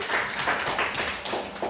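A classroom of students claps their hands in a quick, regular rhythm, faint and somewhat distant, with no talking.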